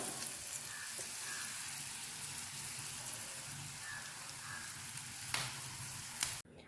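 Plantain slices deep frying in hot oil, giving a continuous soft crackling sizzle close by, even throughout with a few brief louder pops near the end.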